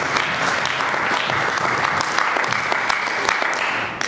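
A church congregation breaks into steady, dense applause that fills the space evenly and loudly for the whole stretch, with scattered voices mixed in underneath.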